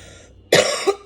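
A single sharp, close cough bursts out after a moment of near silence, with a brief second push at the end.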